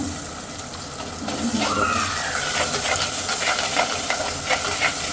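Tomato and bread masala, with fried bread pieces and turmeric, sizzles loudly in a pan while a spoon stirs through it steadily, with a constant close hiss of frying.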